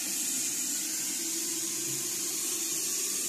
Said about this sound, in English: you've got to fill this up with water